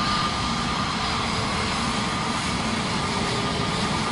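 Steady, loud roar of an Air France airliner's jet engines in Microsoft Flight Simulator 2024, a continuous broadband rumble with an even level throughout and no talk.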